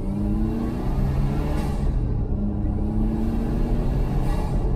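A Carver One tilting three-wheeler accelerates with a steady, rising engine drone and whir, close and continuous, with no voices.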